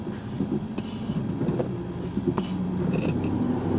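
A Buick engine idles roughly after a hot restart, with a steady low grumble, uneven stuttering and a few sharp clicks, heard close up and alone.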